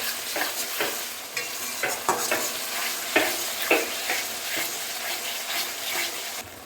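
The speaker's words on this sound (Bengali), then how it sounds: "একদম লো হিটে খুব আস্তে আস্তে মশলাটা একটা স্মুথ মশলা বানাতে হবে" Spice masala fries slowly on low heat in a pan, a soft continuous sizzle broken by repeated scraping stirs in an uneven rhythm, close and alone.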